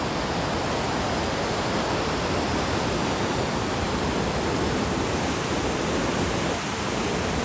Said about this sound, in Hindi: आई होप आपको पानी की आवाज़ आ रही होगी।